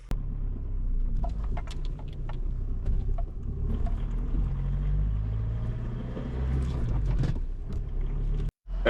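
Volkswagen Amarok pickup truck driving, heard from inside as a constant low engine and road rumble with wind noise and occasional rattles, steady throughout before a brief cutout near the end.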